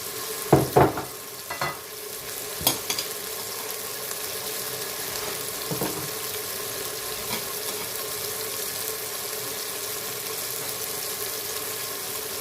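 Red chili powder goes into hot oil for a dal tadka, giving a steady, moderate sizzle and frying hiss throughout, with a few brief clinks of a spoon near the start.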